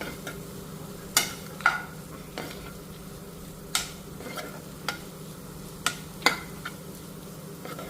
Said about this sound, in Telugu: ఇంకొంచెం వేగాలి పచ్చివాసన పోయే వరకు వేగాలి